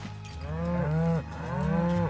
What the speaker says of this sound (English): Oh god, the cows.